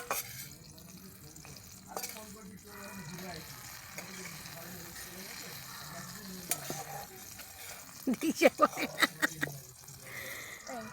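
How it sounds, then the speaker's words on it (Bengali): Eggplant slices fry quietly in a pan with a faint sizzle, then a spatula scrapes and clatters in a quick burst of stirring near the end. A person talks at times over the cooking. "এই যে আমার বেগুন ভাজা হয়ে এসেছে"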